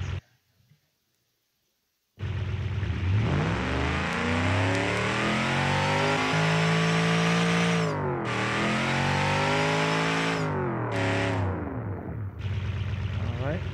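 Virtual car engine with a tuned supercharger whine in a video game, revving up and sustaining a loud, rising whine with brief cuts between revs, heard alone after a short quiet start.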